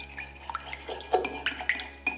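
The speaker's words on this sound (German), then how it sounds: "Verrühre das schön." Simit dough mixture is stirred in a bowl, with quick uneven scraping and clinking strokes of a utensil against the bowl, close and fairly quiet, with no voices.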